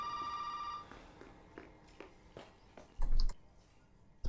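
In the video game Resident Evil 7, a telephone gives a short electronic ring at the start, then the ringing stops. Soft footsteps follow, then a few louder bumps toward the end.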